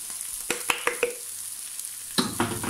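Tomato sauce frying in a pan for tuna boreks, stirred with a utensil: a quiet sizzle beneath a handful of sharp scraping clinks against the pan, close and intermittent.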